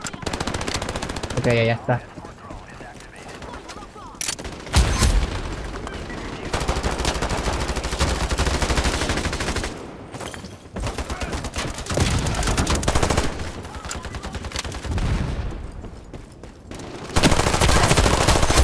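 Thompson submachine gun bursts in the Ironsight shooter game, rapid automatic fire rattling in repeated loud stretches with short pauses between, a voice briefly talking in between.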